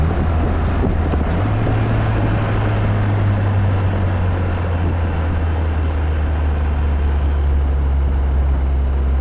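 A 1962 Triumph TR4 engine cruising in fifth gear, a steady low drone from inside the moving car, with constant road and wind rush and no one speaking.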